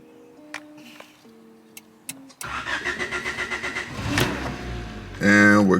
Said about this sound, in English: when I'm ready to turn on the car, just hold the brake, hold the button